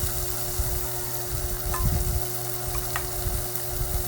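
Ground pork giniling with sayote and tomato sizzles steadily in a pan, a continuous fry with a few scraping stirs of the spoon near the middle, close and alone without talk.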